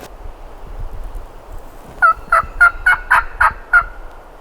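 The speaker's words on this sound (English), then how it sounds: "he just gobbled." A wild turkey gobbler in the Georgia woods gives a rapid run of about seven gobbling notes, clear and moderately distant, after a quiet stretch of faint wind.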